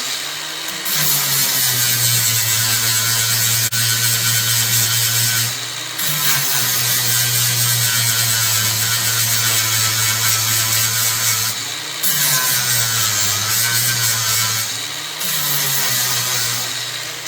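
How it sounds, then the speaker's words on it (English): A power sander works a polyurethane rear bushing for a 1968 Cadillac Sedan DeVille, a loud steady whine running in three long passes with short pauses between, close to the microphone. "Now all I'm doing is sanding it down until it's flush."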